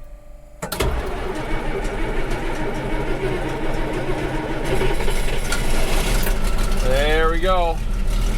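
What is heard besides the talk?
old tractor engine starting and idling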